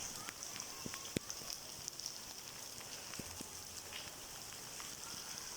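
Heavy rain falls steadily in Islamabad, a broad continuous hiss with scattered sharper drop ticks and one loud tap, close and even throughout with no talk.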